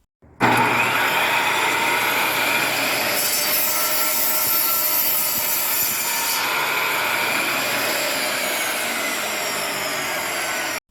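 A repaired Craftsman table saw starts up and runs steadily, a loud continuous whine and hum holding for about ten seconds with no talk.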